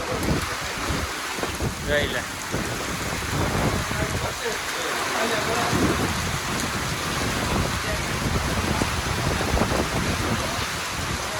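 Heavy rain pours during an out-of-season summer storm with strong wind and hail, a dense steady roar with wind buffeting the microphone and a voice speaking briefly over it.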